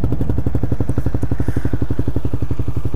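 Honda CBR125R motorcycle engine idling close by, a loud, steady, fast-pulsing single-cylinder putter that continues without pause.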